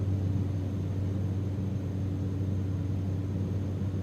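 Steady turboprop drone of a simulated Cessna Caravan over Papua New Guinea as power is pulled back, a constant low hum with tonal bands holding even and continuous, no voices.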